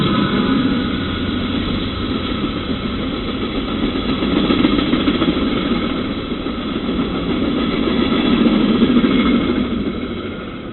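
A Union Pacific SD70M diesel locomotive rumbles steadily nearby, a loud, continuous low engine drone that swells and eases slightly, with no voices.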